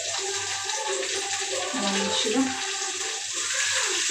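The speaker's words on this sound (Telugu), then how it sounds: "ఆయిల్లో వేసేసుకుంటా ఆవాలు జీలకర్ర కరివేపాకు" Mustard seeds, cumin and curry leaves sizzle in hot oil with a steady crackling hiss, under a person speaking.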